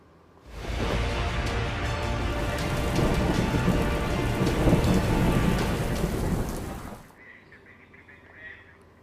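Heavy rain pours in a loud, dense roar with rumbling thunder during a cloudburst in Sikaseri village near Shimla, Himachal Pradesh. The sound starts suddenly and breaks off after about six seconds into quiet.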